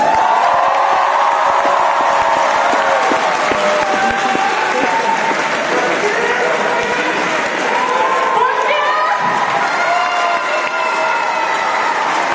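A crowd applauds loudly with cheers and whoops at a Japan Expo Centre 2011 stage showcase, sustained clapping that fills the whole stretch, a few voices calling out above it.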